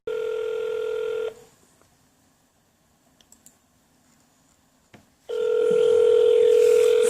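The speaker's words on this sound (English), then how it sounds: "Four minutes of ringing." A telephone ring tone sounds over a line to a county assessment department, two long steady rings separated by several seconds of near silence with a few faint clicks.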